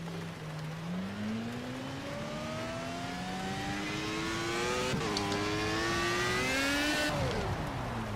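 A race car engine in the video game Project CARS on Xbox One revs under throttle, its pitch climbing steadily, briefly dipping on a shift, then rising again before falling off, loud and continuous.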